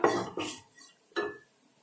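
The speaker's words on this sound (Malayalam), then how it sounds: "ഇനി ഇത് നമുക്ക് വേവിച്ച് വെച്ച പയർ ചേർത്ത് കൊടുക്കാം" Cooked green gram dropped into masala in a pan gives a few soft knocks and scrapes of a utensil against cookware, in spaced bursts and fairly quiet, with no speech.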